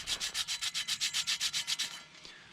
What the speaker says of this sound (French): donc j'enlève une première couche de rouille